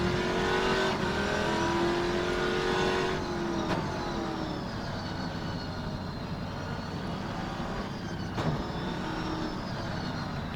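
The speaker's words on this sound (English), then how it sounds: "Gear shifts are a bit noisy in this one." Race car engine in the Assetto Corsa or rFactor 2 sim at Croft, steady high whine with sharp clicks of gear shifts breaking in, continuous and fairly loud.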